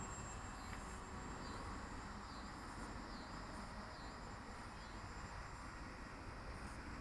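A HobbyKing 1600mm DC-3 model airplane flying in the late evening, its twin electric motors giving a faint, steady distant drone with a slowly wavering whine.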